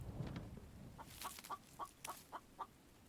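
Chicken clucks from a video game, a run of about seven short, evenly spaced clucks at moderate level over faint background noise.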